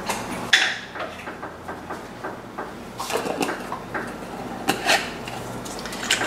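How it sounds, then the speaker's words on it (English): A lidded container of salad dressing, seasoned with salt and a pinch of sugar, is shaken vigorously, giving bursts of rattling, clattering knocks at close range with short pauses between. "And my lid here."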